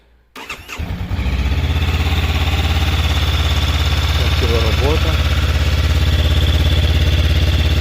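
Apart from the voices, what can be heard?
motorcycle engine starting and idling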